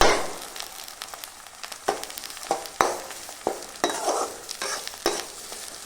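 Small shallots frying in castor oil in a pan for brinjal poriyal, with a steady close sizzle broken by repeated sharp scraping knocks of a spoon stirring them through.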